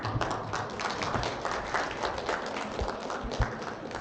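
An audience at a launch ceremony gimmick during a library and media teachers' appreciation event in Tuaran claps steadily, a dense continuous round of applause from a roomful of people.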